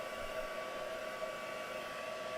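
A heat dryer blows steadily to dry embossing ink, a continuous close whirring hum with an even airy hiss and no pauses.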